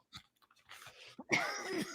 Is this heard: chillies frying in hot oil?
no